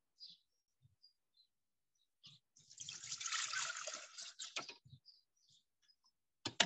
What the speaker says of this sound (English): I put 500 grams of water.